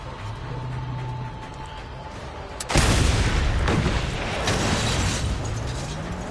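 A shotgun blast goes off at close range in the Mad Max video game, a sudden loud boom followed by a few seconds of rumbling, crackling aftermath over steady ambient noise.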